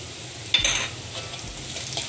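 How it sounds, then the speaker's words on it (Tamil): Ginger garlic paste drops onto fried onions in a pan for Chicken Kofta Curry, a sudden soft burst of sizzling followed by a quieter steady fry, with brief stirring scrapes, close and alone. "இப்போ இஞ்சி பூண்டை சேர்க்குறோம்."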